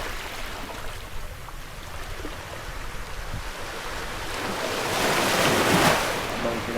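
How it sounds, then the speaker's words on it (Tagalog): Ocean waves wash onto the shore on a quiet morning, a soft continuous hiss of surf with wind rush that builds into a louder breaking swell near the end. "Habang pinapakinggan mo yung ano, ingay ng alon."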